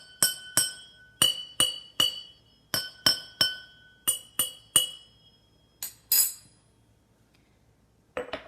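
Empty drinking glasses, both without water, struck one after another in a rapid series of bright, ringing clinks, about a dozen sharp hits with short decays, then a pause and one more pair of taps at the end.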